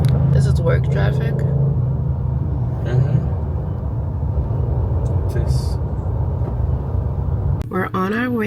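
Road traffic on a work commute in Ghana, heard from inside a vehicle as a constant low rumble with passing engines, while people talk over it near the start and again at the end.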